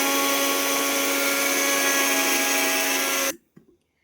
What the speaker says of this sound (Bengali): প্রথমে শুকনোটাকে ব্লেন্ড করে নিয়েছি দেখতে পাচ্ছি